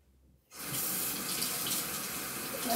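Tap water runs steadily into a sink during a face rinse at a skincare routine, starting abruptly after a brief quiet moment and then pouring as a continuous, close, fairly loud hiss with no talking.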